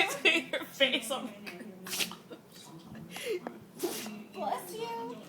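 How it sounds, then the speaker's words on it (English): A Shih Tzu dog sneezes repeatedly in short, sharp snorting bursts close by, with a person's voice chatting around the sneezes. "She sneezed on my finger."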